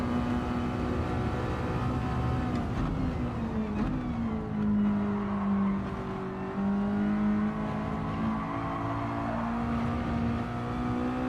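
In a racing video game, a car engine drones steadily, its pitch sliding down and back up as the car slows and accelerates, loud and continuous without speech.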